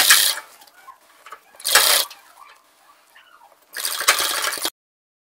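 Sewing machine stitching a kurta in three short bursts of fast whirring stitches, close and fairly loud, separated by quiet pauses with faint handling noises.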